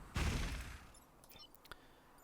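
An artillery piece fires in the turn-based strategy game Into the Breach: one sharp, heavy blast that rings out and fades, followed by a few faint clicks and tones, quiet overall.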